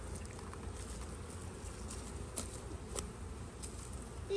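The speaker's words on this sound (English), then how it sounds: "There's bees everywhere." Honeybees swarm thickly around a hive that is preparing to swarm, making a dense, continuous buzzing hum that stays steady and close throughout, with a few brief louder passes near the microphone.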